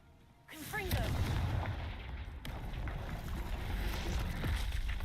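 The Confringo fire spell goes off in Hogwarts Legacy: a rising whoosh swells into a heavy, rumbling blast that sustains as a roaring, fiery wash for several seconds.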